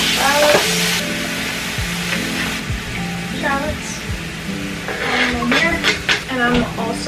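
Shallots sauté in a pan with a steady broadband sizzle, broken by clinks and scrapes of a utensil. Faint voices murmur now and then beneath the frying.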